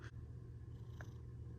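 A pet cat purrs close up, a low, steady rumbling that pulses continuously and softly throughout, with a small click near the start and no voices over it.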